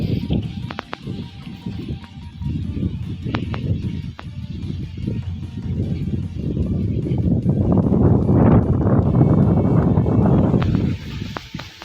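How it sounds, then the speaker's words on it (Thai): Strong wind blows outdoors across flooded rice fields, buffeting the microphone with low, rumbling gusts that swell toward the end. "ตอนนี้ลมแรงมาก"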